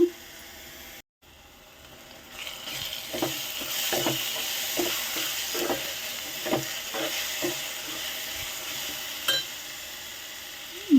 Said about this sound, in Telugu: మామిడికాయ కూడా కొంచెం పచ్చివాసన పోయేదాకా ఒక టేపు ఇలా వేసుకోవాలి